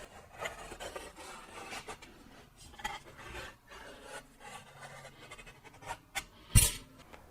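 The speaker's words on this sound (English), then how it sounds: "And then I'll scribe the dome against the next piece." A scriber is drawn around the edge of a metal dome against the next sheet-metal piece of an aircraft fuselage, making quiet intermittent scratching and rasping strokes up close with a small sharp clink near the end, no talking.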